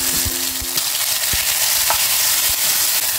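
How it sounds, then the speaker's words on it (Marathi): Green ground masala paste sautéing in hot oil in a kadhai, a continuous close hiss and sizzle with a few scraping stirs of a spoon against the pan. "तेल तापलं की आपण हे हिरवं वाटण केलेलं आहे ते परतून घ्यायचंय"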